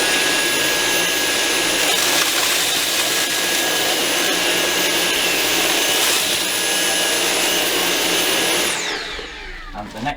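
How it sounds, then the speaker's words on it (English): Dyson V6 and V10 cordless vacuums run together at maximum suction, producing a loud, close, steady high-pitched whine and roar. Near the end the motors are switched off and spin down. "So both of them will be on maximum suction."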